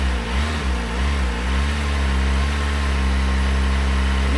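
A Kawasaki ZX25R sport motorcycle engine held at mid RPM, a steady, loud, close buzzing drone that wavers briefly at the start before settling into an even, sustained rev.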